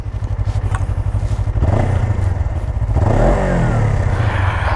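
A 2017 Suzuki GSX 250R motorcycle's 250 cc engine runs up close, a steady throbbing idle that swells into louder revs partway through, with slight mechanical clatter and no talking.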